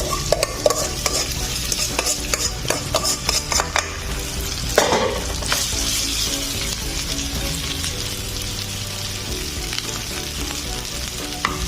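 Garlic, onion and meat for kalo kalo sizzle and fry steadily in a pan, with repeated stirring and scraping clatters of a utensil over the continuous hiss; no talking.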